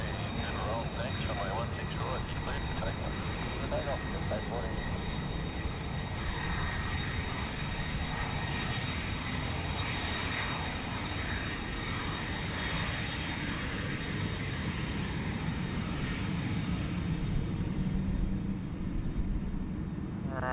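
Airliner jet engines build into a steady, broad roar during the takeoff roll on runway 16 right at Sydney Airport, heard from a distance and sustained for the whole stretch.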